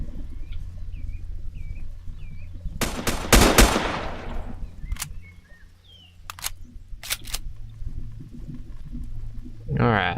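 Gunfire in Next Day Survival: a loud close burst of several rapid shots, then sharp single and paired shots spaced apart against a quiet background with faint bird-like chirps.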